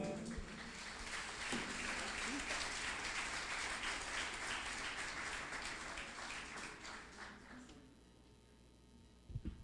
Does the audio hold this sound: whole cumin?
no